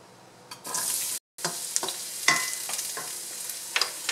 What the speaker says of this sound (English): so we could saute the ingredients. And we are going to start with garlic